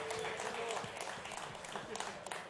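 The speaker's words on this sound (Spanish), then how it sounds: "Aplauso para todos ellos que hacen posible esta jornada de freestyle." Crowd at a freestyle rap league event applauds briefly, with clapping mixed under an announcer's voice.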